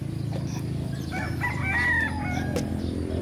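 At feeding time, pet chickens cluck under a low background hum, and a rooster lets out one drawn-out crow nearby.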